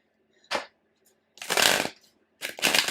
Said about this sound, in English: Let's dig in with the tarot and get a couple of tarot cards